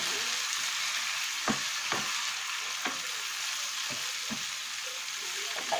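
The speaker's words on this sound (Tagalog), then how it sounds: "Ilagay na natin ang ating pork." Pork for adobo sizzles in a pan as it goes in, a constant moderate frying hiss with a few sharp ticks and crackles spaced through it, no talk.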